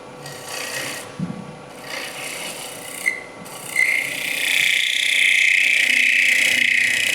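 Heavy chisel cutting wood on a lathe during a wood turners' club session, a steady loud rasping scrape that builds and grows harsher toward the end, with no talking.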